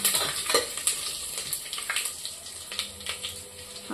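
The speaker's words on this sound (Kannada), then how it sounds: "ಈಗ ನಾವು ಎಣ್ಣೆ ಕಾದ್ಮೇಲೆ ತಗೊಂಡಿರುವಂತಹ ಬಿರಿಯಾನಿ ಸ್ಪೈಸಸ್ ಎಲ್ಲ ಹಾಕ್ಕೊಳ್ಳೋಣ." Biryani spices tipped into hot oil for a Chettinad mutton biryani crackle and sizzle in a steady, close hiss with small popping bursts, no voice.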